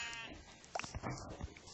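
Sheep bleating in the Minecraft video game, with a couple of short wavering bleats heard fairly clearly over a steady, faint game background.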